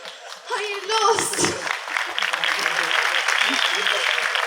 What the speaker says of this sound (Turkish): Evet, alkış.